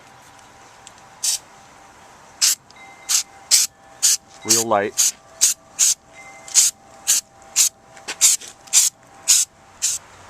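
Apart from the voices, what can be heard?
spraying rubber coating from a can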